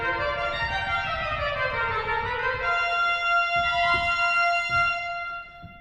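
A pipe organ plays a phrase with each note given the same weight and attack, sustained held tones overlapping into separate evenly stressed notes, with soft low thumps beneath; close, moderately loud, no talking.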